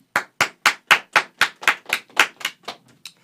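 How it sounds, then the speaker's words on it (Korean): A single person claps about a dozen times in an even, quick rhythm, loud and close, the last few claps trailing off softer. No talking underneath. "짝짝짝 박수라고 박수해 빨리"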